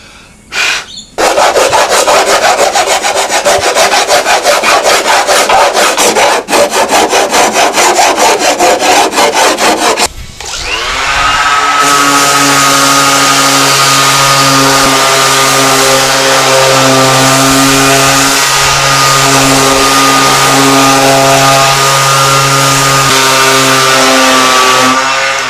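Sanding an S13 front bumper bar by hand: loud, close scratchy rubbing strokes for about ten seconds, then a steady whining power sander running alone and unbroken to the end.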